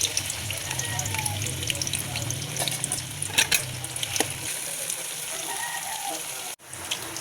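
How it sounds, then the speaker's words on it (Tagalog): Ham sizzling in hot oil in a pan, a steady crackling fry with occasional stirring scrapes, fairly close, with some quiet talk. "Sa mainit na kawali na may mantika ay piprito po muna natin yung ham."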